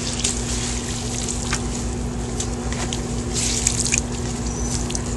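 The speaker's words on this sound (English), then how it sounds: "Got a wet sponge here, and I'm going to douse the concrete." A wet sponge dousing concrete with water while cementing mobile home skirting into place, giving a close, continuous trickle with scattered drips and splashes and no talk.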